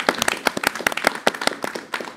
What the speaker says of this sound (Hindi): मैं चाहता हूं एक बार हम सब एक दूसरे का जोरदार तालियों से अभिनंदन करते हैं।